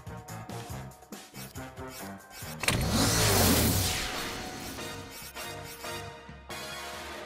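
Cartoon car racing in the PJ Masks Racing Heroes video game: engine revs and whooshing effects swell into a loud rushing sweep over busy, continuous game music, with no voices.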